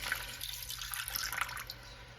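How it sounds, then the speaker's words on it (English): Fresh coconut water from a whole coconut being poured into a pot of chicken, Chinese herbs, dried dates and ginger for soup, a steady close splashing pour lasting a couple of seconds. "Next, we'll pour in some coconut water"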